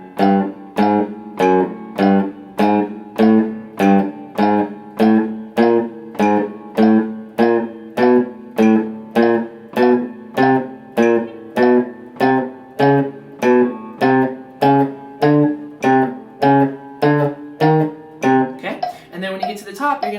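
Guitar playing single picked quarter notes in a steady, even pulse, one note per metronome beat, about twenty-five clear notes in a row with a brief jumble of notes at the end.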